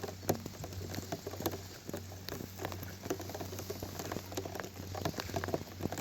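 Steady rain patters on surfaces around a riverside campsite beside an open cooking fire, with dense irregular drops ticking and tapping continuously, some close and sharp, over a low constant hum.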